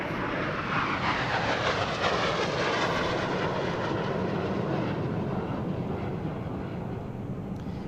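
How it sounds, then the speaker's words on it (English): Three MiG-29 air superiority fighters in formation roar past overhead at an Indian Air Force Day flypast, a loud sustained jet rumble with a sweeping pass. "comprising three MiG-29 aircraft airborne from Ambala."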